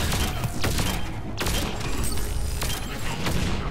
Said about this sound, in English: Oh, a grenade.